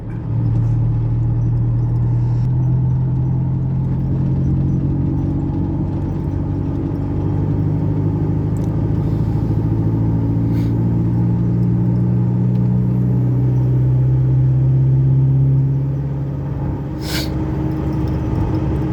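A pickup truck's engine drones loud and steady while driving, its pitch holding and shifting as gears change, with a brief drop near the end; no voices.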